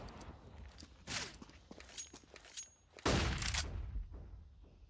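Gunfire in a Counter-Strike: Global Offensive match, with sharp bursts of rifle shots and impacts in quick clusters, a louder volley near the end, all fairly quiet in the mix.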